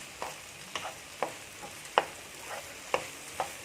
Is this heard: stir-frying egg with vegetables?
yes